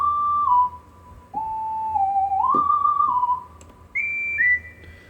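Whistle lead synth patch on a Roland Fantom 06 keyboard, playing a clear, loud whistle-like melody of sustained gliding notes that step up and down, with no voices.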